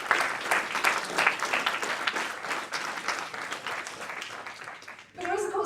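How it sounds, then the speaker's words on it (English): A conference audience claps steadily for several seconds, a moderately loud wash of hands that fades near the end, and then a voice begins speaking. "Give yourself a clap."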